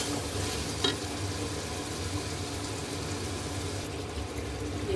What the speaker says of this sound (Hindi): ये मसाला अच्छी तरह से भून चुका है